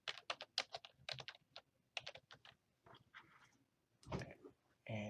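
Quick bursts of keystrokes on a computer keyboard, crisp clicks in rapid clusters separated by short pauses, close and clear.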